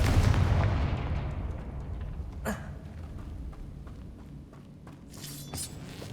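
A Confringo fire spell blasts in Hogwarts Legacy, a loud booming burst that decays into crackling debris, then a sharp impact and further clatters follow in the distance.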